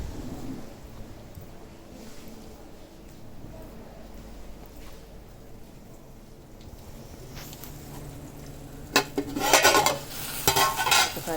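Bitter gourd curry (kakarakaya kura) cooking in a pan, a low steady simmer under soft background noise, then a louder burst of sizzling and spoon-against-pan stirring near the end.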